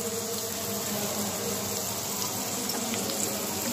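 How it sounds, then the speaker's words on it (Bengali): A little water poured onto ground cumin, coriander, turmeric and chili in a pan, a steady close splashing pour lasting a few seconds. "অল্প একটু জল দিয়ে দিব।"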